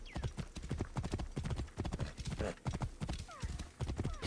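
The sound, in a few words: horse hooves clip-clop and neighing in Assassin's Creed Origins video game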